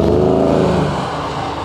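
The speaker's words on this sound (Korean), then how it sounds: "510마력이 순간 전달이 되면서 스킨 현상이 발생합니다" Mercedes-AMG car with 510 horsepower spinning out on a wet circuit, a loud engine roar that drops in pitch as the car loses grip, brief and close.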